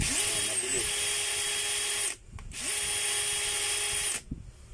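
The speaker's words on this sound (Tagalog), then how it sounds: "Bali pahinto-hinto po siya mga kabay. So sira po yung switch niyan mga kabay." A faulty power drill with a broken switch and damaged transmission and chuck, whining in two long bursts that cut out abruptly, each starting and stopping unevenly.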